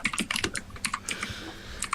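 Rapid typing on a computer keyboard, a close, dense run of uneven key clicks without pause.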